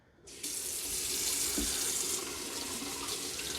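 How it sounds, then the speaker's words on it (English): A kitchen faucet suddenly gushes and keeps running steadily over a Vessi Stormburst waterproof shoe, a close, even hiss of splashing water with no talking. "I'm gonna go ahead and run this underwater for a while"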